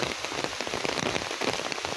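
Steady rain falls through woodland on a windy Memorial Day, a dense even patter of drops hitting leaves and surfaces, continuous and fairly close, with no voices.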